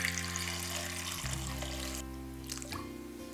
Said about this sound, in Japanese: 梅の実が入ったら、梅がかぶる程度まで水を入れていきます。